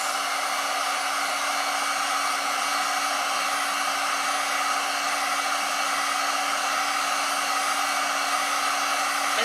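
A Black & Decker heat tool runs on its highest setting against wood, giving a steady, loud, even blowing roar with a faint constant hum, close and unbroken.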